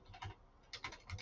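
Quiet, close typing on a computer keyboard while coding a C# form, with clusters of soft key clicks in an uneven rhythm and brief pauses between bursts.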